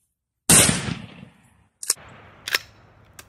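An old, rusty, broken shotgun fires one loud, close blast that rings out and fades, followed by a few quieter sharp clicks and clacks of the action.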